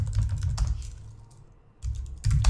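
Someone types on a computer keyboard while entering a command at a command prompt, a close, quick run of key clicks in two bursts with a quieter pause between, no talking.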